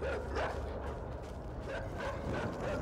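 A dog in the video game INSIDE barks and snarls in dense, rough bursts over loud, continuous noisy ambience, with brief louder peaks near the start and end.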